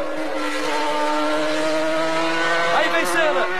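Ayrton Senna's Formula 1 car screams loudly at high revs as it accelerates on a wet race track, its engine note rising and shifting while a commentator talks excitedly over it.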